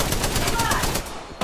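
Rapid automatic gunfire in the battle-royale game Apex Legends, a dense continuous burst of shots in a chaotic close firefight, easing slightly near the end before a final sharp shot.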